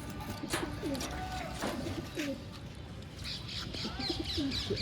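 Pigeons coo repeatedly in soft, rolling calls, with other birds chirping faintly around them against a steady background hum.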